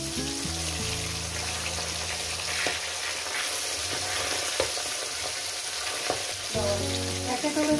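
Pabda fish stirred into a mustard-poppy curry in a pan, a steady sizzle with repeated scraping stir strokes of a spoon against the pan throughout, close and fairly loud, no voices.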